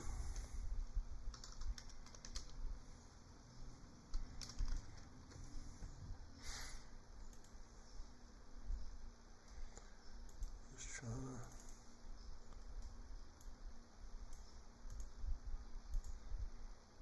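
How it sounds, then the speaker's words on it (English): Typing on a computer keyboard, quiet irregular clicks and taps running through the whole stretch with faint background noise and occasional louder clacks. "I'm just trying to do some typing here"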